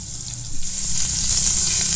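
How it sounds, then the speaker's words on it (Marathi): Dry crushed green chili thecha, made without water, hits hot oil with a loud, dense sizzle that swells after a brief moment and holds steady up close. "तो ठेचा आपल्याला तेलामध्ये सोडायचा आहे आणि फ्राय करून घ्यायचा ठेचा"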